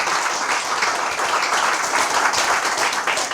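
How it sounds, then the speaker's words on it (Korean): Audience applause at the founding ceremony of a freedom and fairness forum, loud, dense clapping that holds steady from start to finish. "이분들에게 여러분 큰 박수 한번 부탁드리겠습니다."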